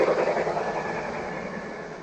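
A Thomas & Friends model train locomotive on a DCC digital layout runs with a steady, faint rumbling whir, continuous and unchanging for about two seconds with no talk.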